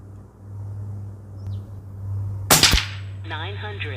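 One sharp, loud crack of an Air Maks Caiman .25 caliber PCP bullpup air rifle firing a JSB pellet outdoors, rising over a low steady rumble, followed by bird chirps.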